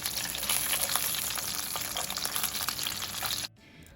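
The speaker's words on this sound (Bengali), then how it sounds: "আমি সব মাছগুলো এবারে একসাথে ভেজে নিচ্ছি" Fish pieces frying together in hot oil for a Birbhum-style sour fish dish, a loud, steady close sizzle and crackle for about three and a half seconds before cutting abruptly to near quiet.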